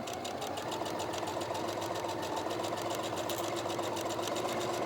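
A sewing machine stitches a reusable microwave popcorn bag in a fast, even, continuous mechanical rattle, close and steady throughout, with no talk over it.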